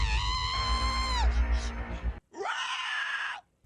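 A woman's long, piercing screams in a film scene, loud and close, breaking off briefly before a second strained scream that cuts off abruptly.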